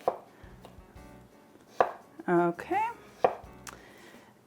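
Knife slicing strawberries thinly on a cutting board for popsicles: soft rhythmic taps of the blade, then a few louder clatters of kitchen handling, with one brief spoken word.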